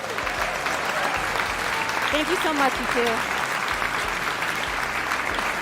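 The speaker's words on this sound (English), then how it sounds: "One last round of applause, ladies and gentlemen." Audience at a talent show finale applauding steadily, a dense sustained clapping throughout, while a host speaks over it.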